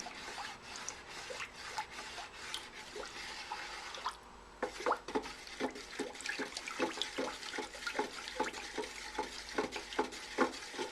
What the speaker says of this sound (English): Come around the sides. Scrape it all around.